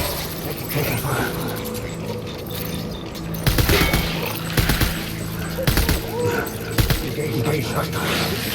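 Gunfire in the video game Death Stranding Director's Cut on PS5: a dense, continuous battle din with repeated sharp bursts of shots over a loud background, with voices talking throughout.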